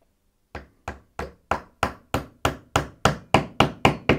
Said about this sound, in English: then you'll hammer it in